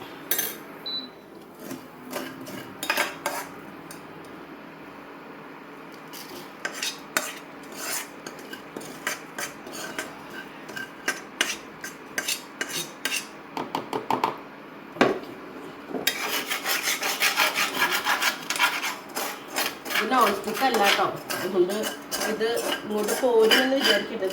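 An Indus Valley cooking pot scraped, shifted and handled in a home kitchen, with repeated metallic rasps and clanks that grow busier and louder in the second half.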